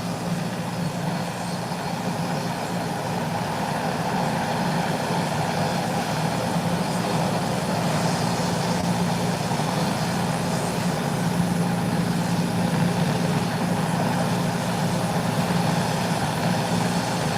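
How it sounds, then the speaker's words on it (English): An Eastern Air airliner taxies toward the runway threshold, giving a steady low engine rumble with a broad hiss that holds level and continuous throughout, with no voices. "It has now reached the threshold and has made its 180-degree turn, and it's ready for takeoff."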